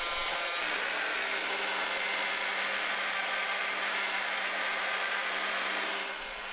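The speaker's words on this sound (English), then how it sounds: "Spread the polish on the lens, set the machine to 1200 or 1500 RPMs," Polishing machine buffing a car headlight lens at 1200 to 1500 RPM, a steady, loud, continuous whirring hiss that holds level throughout before dropping off slightly at the very end, with no voices.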